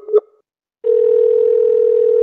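Telephone ringback on an outgoing call: a short blip, a pause, then a single steady tone that sustains loudly and evenly to the end, with no voices over it.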